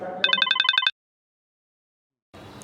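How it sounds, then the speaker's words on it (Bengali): A telephone rings with one short burst of rapid, bright electronic trills, then cuts to silence before faint room noise returns. "ফোন আসছে।"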